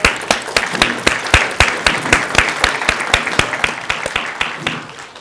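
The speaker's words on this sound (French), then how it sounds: "Bon applaudissement." An audience at a credit union's annual general meeting claps steadily, a crisp run of individual hand claps that stays lively and close throughout without fading.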